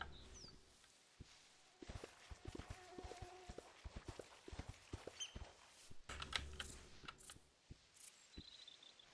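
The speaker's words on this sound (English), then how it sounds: "it looks like the game wants me to plod through the water" Horse plodding through water in the Horse Tales: Emerald Valley Ranch video game, an uneven run of soft clopping hoof steps, faint and close, with no voices.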